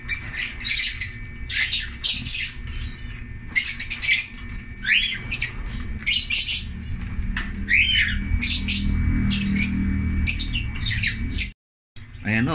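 Harsh, repeated squawks and chirps from bathing birds come in busy bursts, fairly close, over a low background rumble with a brief dropout near the end.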